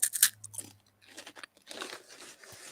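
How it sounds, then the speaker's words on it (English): Someone bites into and chews a crunchy, salty chip-like snack up close, with sharp crunches at first followed by quieter, irregular chewing. "The crunch and the salt are satisfying."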